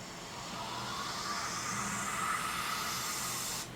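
A voice-made sound effect: a sandy hiss that swells steadily louder for several seconds, then cuts off abruptly, with no other sounds present.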